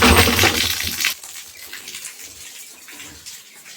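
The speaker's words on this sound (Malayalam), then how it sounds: "മോട്ടർ നിറഞ്ഞിട്ട് വെള്ളം പോകുന്നതാണ് കാണുന്നത്" Water overflows from a tank after a pump motor has filled it, first as a loud rushing splash, then settling into a quieter steady trickle and spatter.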